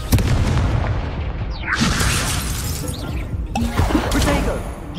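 A Confringo blasting curse goes off in the Hogwarts Legacy video game, with loud booming, shattering bursts amid busy combat effects, including a swooping whoosh and a second crashing impact midway through.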